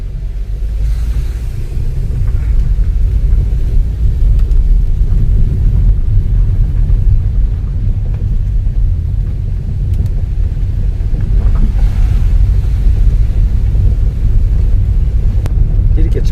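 A car driving along a mountain road through autumn scenery near Odaesan: a steady low engine and road rumble with some wind buffeting, continuous and close, with no speech.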